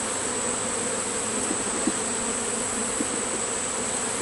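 Honey bees buzz steadily during a hive inspection of frames with no brood, a dense continuous drone close by with a few faint clicks and handling sounds.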